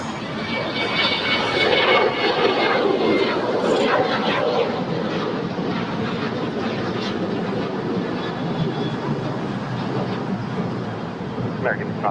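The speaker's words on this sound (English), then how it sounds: "Korean Air making a left turn there on taxiway Lima as she will slowly head to the" A Korean Air airliner taxis at LAX, turning left onto taxiway Lima toward the gates, its jet engines giving a steady, fairly loud whine and rumble throughout.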